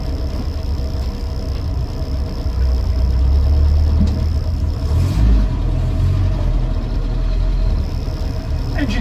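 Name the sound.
Land Rover Series IIa 88in engine running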